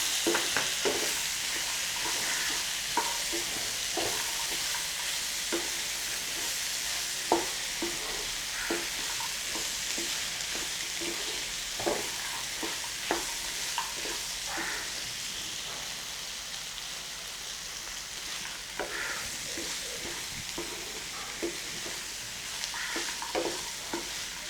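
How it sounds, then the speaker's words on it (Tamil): Cut potatoes and green peas are stirred and sautéed in a pan for a curry, giving a soft continuous sizzle with frequent scraping clicks from the spoon. No one speaks. "இப்போ இதோட நம்ம கட் பண்ணி வச்சுருக்கக்கூடிய உருளைக்கிழங்கு, பச்சை பட்டாணி எல்லாம் சேர்த்து போட்டு வதக்கணும்."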